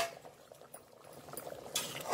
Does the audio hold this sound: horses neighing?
no